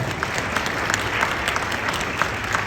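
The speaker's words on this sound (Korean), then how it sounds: "큰 박수 부탁드립니다" Wedding guests clap for the couple after the groom's father gives his blessing, a steady, fairly close patter of many hands with a few sharper claps standing out, no talking over it.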